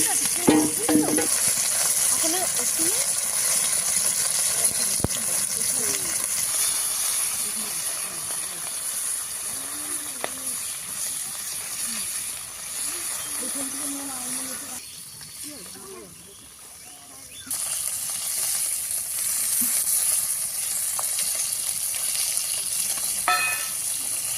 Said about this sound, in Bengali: মাছ দিয়ে দিলাম কড়াইতে